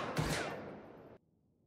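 Gunfire in an action film scene set in an office building: a loud burst of shots merging into a roaring wash that fades for about a second, then cuts off abruptly into near silence.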